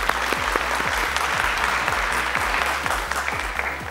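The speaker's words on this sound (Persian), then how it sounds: "پس نفر سوم تشویق کنین که فایزه و خالد دیر جواب بدن سوال سوم." Studio audience applause on a Family Feud style game show: loud, sustained clapping from a crowd, with steady rhythmic beats in the background throughout.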